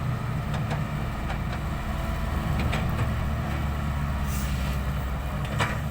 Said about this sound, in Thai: คันนี้เสียงท่อดังลั่นเลย